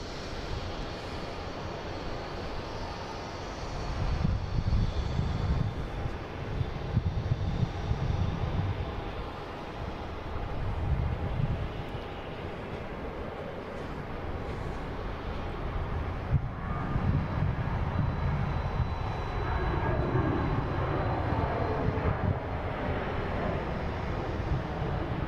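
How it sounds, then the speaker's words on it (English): A WestJet airliner heading to Calgary takes off from Boston Logan, a broad, fluctuating engine roar with bursts of low rumble and gusty wind noise throughout, fairly loud and with no voices. "next taking off is that WestJet"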